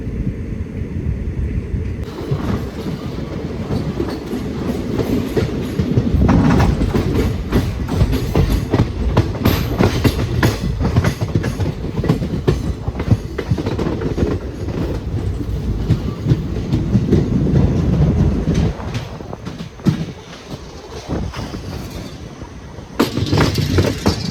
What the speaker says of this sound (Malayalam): അപ്പോൾ അതൊക്കെ നമ്മുടെ വഞ്ചിനാട് എക്സ്പ്രസ് സ്പീഡ് എടുത്ത് തുടങ്ങിയിരിക്കുകയാണ്.